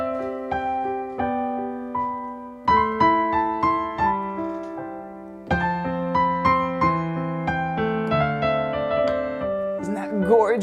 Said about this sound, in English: technique number 2 is your slip note technique, and it sounds like this